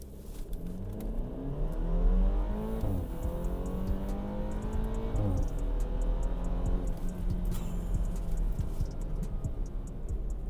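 A BMW F30 328 in Sport Plus mode with stability control off accelerates hard from inside the cabin, engine note climbing through gears with clear shift breaks, loud and continuous.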